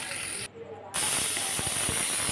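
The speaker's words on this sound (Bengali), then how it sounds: "প্রেশার কুকারে বসাইতে দিছি এই ডাউলটা" Pressure cooker cooking dal, a steady hissing steam with a brief break, then the hiss resumes alongside faint clicking and rattling.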